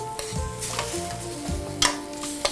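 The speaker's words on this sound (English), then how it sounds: "Now to this, I'm gonna add my shrimp. So I want to move these shrimp around in this sauce" Shrimp stir through a simmering New Orleans BBQ sauce in a pan, a steady sizzle broken by scraping strokes and a couple of sharp utensil taps against the pan.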